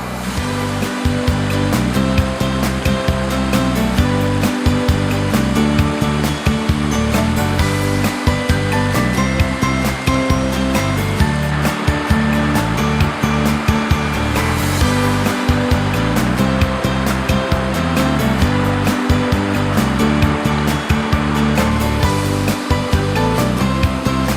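Kaeng I Khiao waterfall in Ubon Ratchathani, Thailand, roars continuously at high water, a loud, dense rushing wash heard up close with no pauses.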